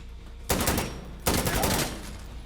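Two loud bursts of rapid gunfire from an Insurgency: Sandstorm match, each lasting under a second and close up, with short gaps of quieter game ambience around them.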